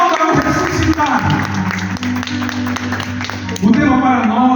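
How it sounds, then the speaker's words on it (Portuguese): A congregation at an evening church service applauds together, a steady wash of clapping that fills the room and mixes with a voice leading over it. "Aplauda, aplauda, aplauda, aplauda o ressuscitado"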